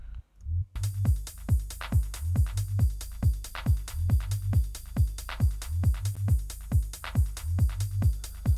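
A deep synth bass glides in a repeating pattern under a steady four-on-the-floor kick drum, punchy and up front, with no talking.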